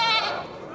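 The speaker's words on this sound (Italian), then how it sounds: "E così tu non sapevi che l'imputata fosse una capra?" A goat lets out a single short bleat, a bright wavering cry that fades quickly, heard up close with no talk over it.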